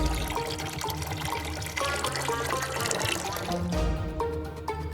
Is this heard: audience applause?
no